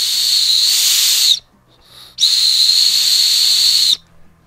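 A shrill, breathy whistle built into a vintage ToyBiz X-Men action figure blows twice, each blast long and steady with a short gap between, loud and close.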